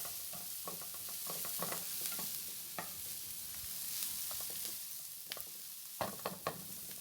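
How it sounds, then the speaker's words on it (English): Vegetables being stirred in a frying pan for a cheesy macaroni bake, a steady soft sizzle under repeated scraping strokes of a utensil, closer and louder clatters near the end. "we need to stir in the vegetable until the vegetable is softened"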